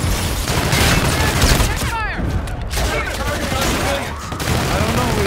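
Sustained automatic gunfire and explosions in the sci-fi shooter Call of Duty: Infinite Warfare, a dense, loud barrage of rapid shots and booms with whooshing projectiles, as voices talk underneath.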